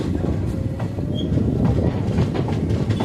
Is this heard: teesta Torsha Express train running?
yes